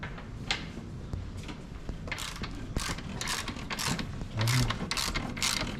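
Ratcheting clicks from a Nitron suspension preload adjuster on a Harley-Davidson Low Rider ST being turned, a series of close, crisp mechanical clicks at an uneven pace over quiet workshop background.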